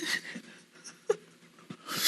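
A man imitates a panting dog as a guessing-game clue on a TV show: a few quick breathy pants with short gaps between, fairly close and moderately loud.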